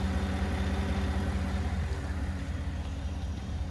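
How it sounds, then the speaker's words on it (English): A GMC Yukon XL SUV engine idles steadily at close range, a low, even rumble with a constant hum and no voices. "Engine sounds great."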